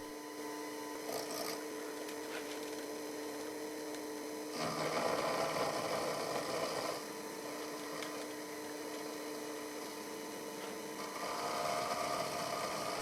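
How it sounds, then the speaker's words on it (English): A small, flimsy mini milling machine cuts metal with a 2-flute solid carbide end mill at high speed, giving a steady, loud continuous grinding whir with a hum beneath it that swells and eases as the cut changes. "I'm using a 2-flute solid carbide end mill, which usually cuts a bit better than 4-flute on this very small,"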